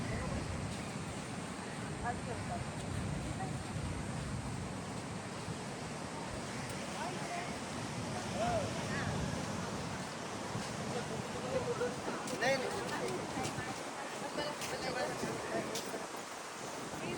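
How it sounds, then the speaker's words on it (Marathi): Sea surf behind a house at Tarkarli on the Malvan coast, a steady broad wash of waves mixed with wind noise on the microphone, continuous and moderately distant with no talk. "आणि याबरोबर घराच्या मागे समुद्र आहे."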